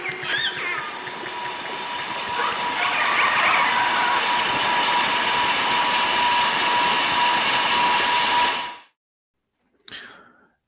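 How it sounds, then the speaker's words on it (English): A boat propeller cavitating underwater near orcas, producing a loud, steady broadband hiss with a humming tone that cuts off abruptly, followed by a brief burst. "The propeller makes cavitation sound, it's called, which is a broadband noise"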